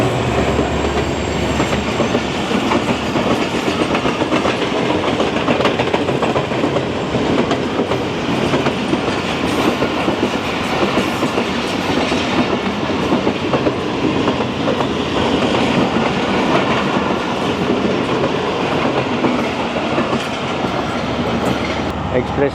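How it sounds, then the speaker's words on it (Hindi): The 15 Up Karachi Express passes at Jalal Marri station, a loud, steady rumble of rolling wheels with rhythmic clickety-clack over the rails filling the whole span close by. "15 अप कराची एक्सप्रेस को हम रास्ता दे रहे हैं और वो ये आ चुकी है।"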